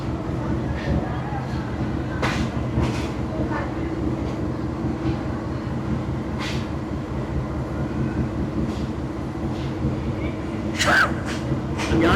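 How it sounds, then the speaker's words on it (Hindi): Ambience at the main entrance of a railway station in Pakistan: a steady low hum mixed with distant crowd murmur and occasional sharp knocks and clatters. A person talks near the end. "ये मेन एंट्रेंस है स्टेशन की।"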